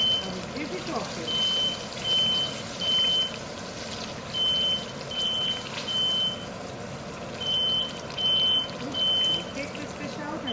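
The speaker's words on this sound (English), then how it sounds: "So now I have to put on this alarm." A kitchen alarm beeps while king fish stew cooks, giving repeated short bursts of high electronic beeps in twos and threes, fairly loud over a steady low rumble.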